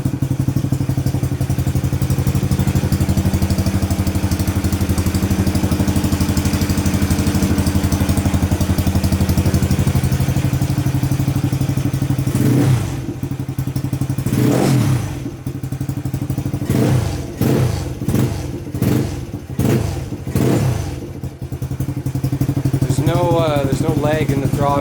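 Kawasaki KLX110 motorcycle engine with a freshly set carburetor, idling steadily up close, then blipped through several quick throttle revs that rise and fall, with a voice heard briefly near the end.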